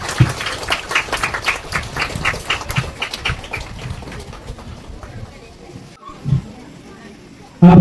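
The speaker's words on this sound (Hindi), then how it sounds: "तालियां बजती रहनी चाहिए।" Clapping from a congregation at the opening ceremony of a Catholic church, with a cultural program: a run of separate claps thins out over the first half and fades away, and a few other sounds follow.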